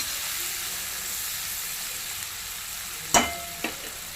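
Sliced onions fry slowly in oil over a low stove flame for a dried fish and brinjal curry, giving a steady soft hiss throughout with one sharp utensil clank near the end.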